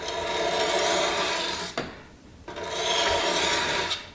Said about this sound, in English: start with the most coarse stone you have, and then from heel to tip